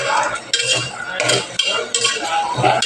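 Ginger garlic paste being stirred into onions in a pan, repeated close scraping strokes of a spoon against the metal with a faint sizzle beneath, in an even rhythm.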